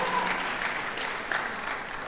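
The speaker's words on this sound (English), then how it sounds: "Give your parents a round of applause" Applause at a Pine Forge Academy commencement ceremony, a crowd clapping steadily and densely throughout, moderately loud and spread across a large room.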